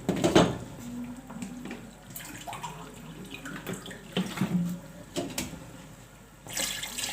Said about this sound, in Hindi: मैं इसमें ना 2 कप पानी शामिल करूँगी ताकि गोश्त जो है वो अच्छी तरीके से गल जाए